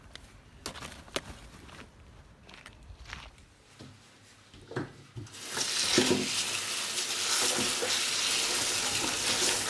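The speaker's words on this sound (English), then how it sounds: "First, wash them thoroughly in clear water 2 or 3 times. I use a basin like this." Freshly picked stinging nettles are swished and washed in clear water in a basin, starting with scattered splashes and clunks and then settling into a steady, close rush of running and sloshing water.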